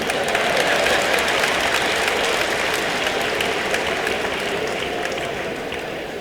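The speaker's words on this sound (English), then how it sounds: "All the people from Ilawe Ekiti, just clap for yourself." Dense, sustained applause from a large audience at the 117th inaugural lecture of the Federal University of Technology Akure, a continuous loud roar of clapping that tapers slightly at the end.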